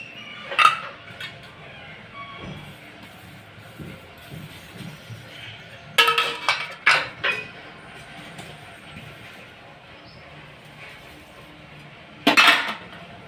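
Metal idli mould plates clink and clatter in a home kitchen as they are greased with oil, with a few loud sharp knocks between quieter rustling and soft handling sounds.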